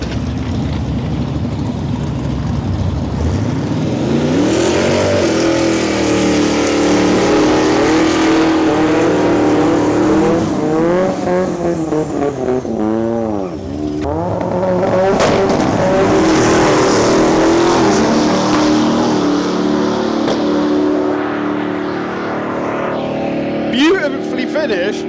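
Drag racing car doing a half-track run at Santa Pod: a loud, close engine roars and revs through rising gear changes, drops briefly midway, then surges again, with a commentator talking throughout.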